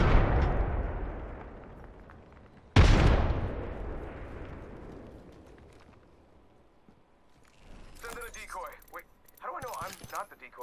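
Frag grenade blast in the Apex Legends video game: a loud boom at the start and a second heavy explosion a few seconds later, each decaying in a long rumble, followed by scattered chattering game effects.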